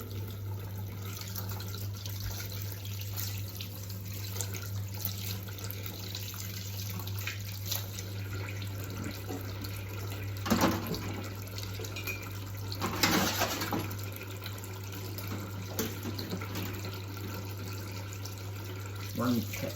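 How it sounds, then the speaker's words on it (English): Running tap water while washing up dishes at a kitchen sink makes a continuous soft splashing wash, with a steady low hum underneath and a couple of louder clinks or splashes midway. "And do a little bit of washing up"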